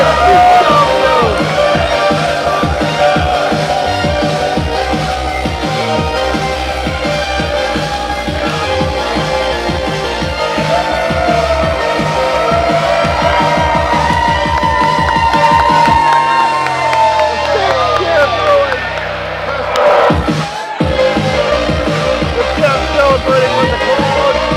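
Loud crowd cheering and whooping at a wrestling main event at a craft beer festival, a dense steady roar lasting throughout with shouts rising above it and a brief dip near the end.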